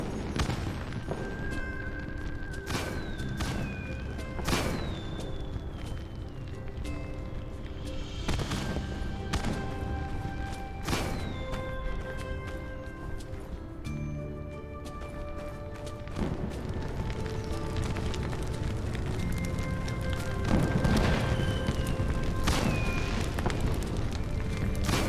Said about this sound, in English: I forget if we get different like patterns and stuff from the fireworks.